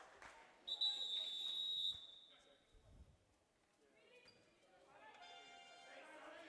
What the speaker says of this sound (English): Whistle blown for a timeout.